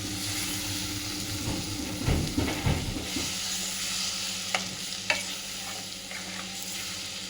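Scrambled egg masala sautés on low heat in a pan, a soft, steady sizzle broken by a short run of stirring scrapes and a couple of utensil taps, quiet and close, with no talking.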